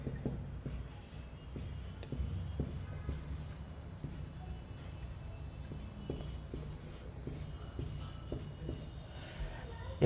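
A pen scratches calculations onto paper in a close, quiet study setting, with short repeated scribbling strokes continuing beneath soft Hindi speech.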